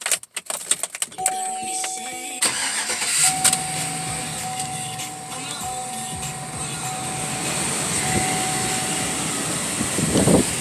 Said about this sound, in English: We're going to crank the engine up.